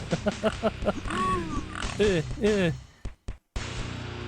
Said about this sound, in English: Go away, hell pig. Little oinker.